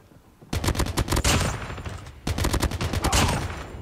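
ICR assault rifle firing in Call of Duty: Mobile, two loud rapid bursts of automatic fire, the first about two seconds long and the second after a brief pause, close and alone.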